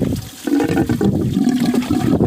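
Coolant draining from a Fiat Uno radiator after its drain bolt is loosened, a steady gushing, splashing pour of rusty water that runs close and continuously throughout.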